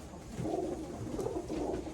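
A Tuscan Van Reel pigeon hen, oddly colored like an Andalusian or opal, coos close by in two soft, rolling low calls separated by a brief pause over faint background hiss.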